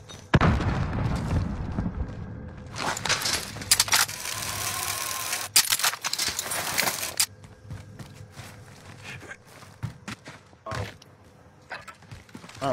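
A frag grenade thrown and exploding during a Call of Duty Warzone 2.0 match, a loud broadband boom around the middle with rumbling debris, followed by quieter mechanical clicks and scattered sharp game sounds.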